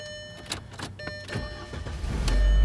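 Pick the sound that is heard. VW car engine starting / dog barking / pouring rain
VW car engine starting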